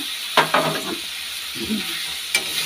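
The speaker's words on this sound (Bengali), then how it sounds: "এখন দিয়ে দেবো পেঁপে আর মটরশুঁটিতে" Papaya and peas drop into sizzling fried spice paste, sending up a sharp hiss and crackle in several close bursts as the pan is stirred, with no talking.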